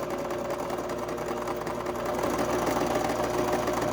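A sewing machine runs a straight stitch along a quarter-inch seam on a cotton and lace quilt block, a steady mechanical whirr that speeds up slightly partway through, with no voice over it.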